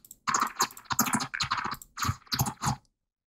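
Glitchy grid fragment samples from the Turbo Kit sample pack play as a rapid run of choppy, clicking, crunchy bursts separated by tiny gaps, fairly loud and close, then stopping abruptly.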